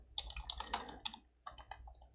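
Keys click on a computer keyboard during work in the Figma design app, a quiet, close run of light taps in two short bursts.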